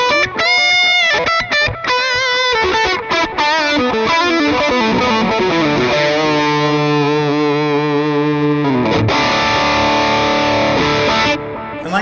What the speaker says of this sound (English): if we add in the Wampler tape echo, let's turn up the guitar volume for like a lead kind of sound